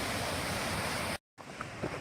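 Waterfall and stream just off the Vermont Long Trail, a steady, loud rush of falling water that cuts out abruptly and resumes as a quieter flowing stream.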